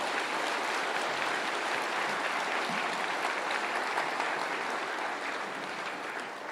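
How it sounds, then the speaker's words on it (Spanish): Applause at a Spanish-language church service, a steady, dense wash of clapping from the congregation that holds for several seconds and tapers only slightly at the end, with no talk over it. "Denle un aplauso a la palabra del Señor."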